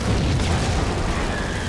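A deep, rumbling grenade blast in the shooter game Max Payne, loud and dense throughout its brief span, with no speech over it.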